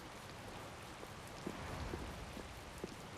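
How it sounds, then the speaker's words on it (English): Rain and wind in the video game Tales of Vesperia: a faint, steady hiss of rainfall with scattered soft drop impacts and a few slightly louder thumps, with no voices. "I believe the ongoing rain and wind are being caused by a Blastia"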